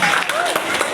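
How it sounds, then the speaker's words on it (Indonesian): Schoolchildren clap together at an Isra Mi'raj school event, a short burst of dense, close applause with voices mixed in. "Tepuk tangan dulu biar semangat."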